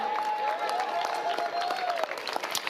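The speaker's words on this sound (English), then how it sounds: "give you guys a round of applause" An audience applauds at the 2023 Major League Pickleball Premier Finals in San Clemente. Dense, steady clapping fills the whole stretch, with a thin sustained whistling tone running above it for the first two seconds.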